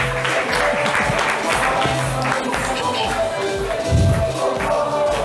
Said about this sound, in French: on va continuer de l'applaudir